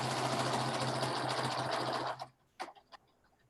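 A sewing machine stitches steadily along a folded fabric edge with a loud, close, continuous whir that cuts off after about two seconds, followed by a few small mechanical clicks.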